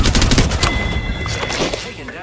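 Rapid bursts of automatic gunfire in the shooter game Apex Legends, loud and close, rattling in quick volleys under a speaking voice.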